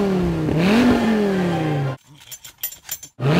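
A Dodge Viper V10 revs hard through its side exhaust, climbing in pitch for about two seconds, then cuts off sharply, leaving a few quiet clicks and rattles before the roar returns.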